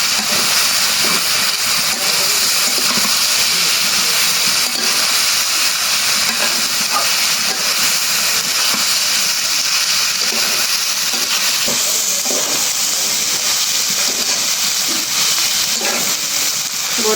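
Prawns fry in hot mustard oil with turmeric, chili powder, green chilies and onion, giving a steady, loud hiss and crackle that holds evenly from start to end with no talking.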